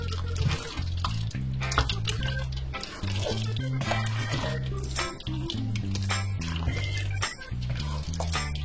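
Tap water runs steadily while carrots are rinsed for a Belgian stoemp, a continuous wash of splashing beneath loud, tonal background music.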